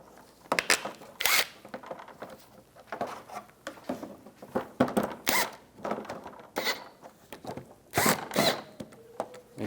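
Bolts being run in and tightened on a 2004-2009 Toyota Prius side engine splash shield, giving sharp ratcheting and zipping bursts in uneven clusters, close and fairly loud.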